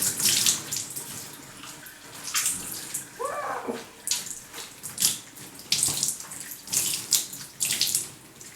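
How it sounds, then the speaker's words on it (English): Wet splashing and dripping water comes in repeated bursts as soaked rabbit hides are squeezed out during salt and alum tanning, close by, with a steady watery hiss between squeezes. "I'm just going to squeeze, not wring, as much water out of these as I can"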